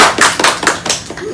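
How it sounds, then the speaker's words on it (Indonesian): A handful of people at an office roast clap loudly and close by in a quick, uneven burst of sharp hand strikes, with voices mixed in. "Tepuk tangan buat lemaknya Daru."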